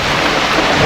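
Heavy rain pours steadily in a dense hiss aboard a sailboat at sea between the Bahamas and Florida, with a low rumble underneath.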